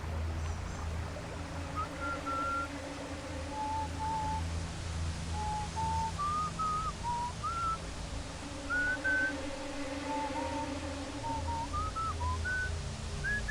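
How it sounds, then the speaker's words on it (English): Short rising whistles repeat in overlapping bursts, growing busier over a steady low hum and rushing ambience. "The whistling grew faster and more frantic, layering and layering, but as Strena turned and tried to sense"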